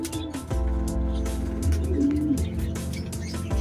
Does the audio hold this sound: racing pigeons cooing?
yes